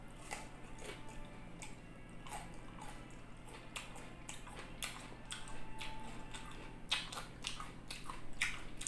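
Raw cucumber, not very crunchy, eaten alongside Bicolano-style spicy beef caldereta and lettuce, is chewed up close with repeated soft crisp bites and wet clicks over a faint steady background hum.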